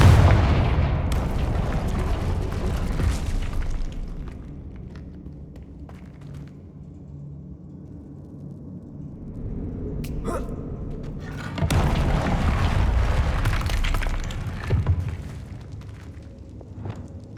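A Confringo blasting spell in the video game Hogwarts Legacy goes off with booming explosive bursts, loud and close, separated by a quieter rumbling lull, with sharp cracks between the blasts.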